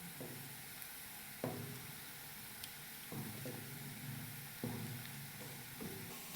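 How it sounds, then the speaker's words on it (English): A spoon stirs garam masala into lentils cooking on the stove, soft scraping strokes repeating every second or so over a faint steady simmer and sizzle, quiet and close, with no voices. "So it's time to put that in the lentils. I'm going to mix it in."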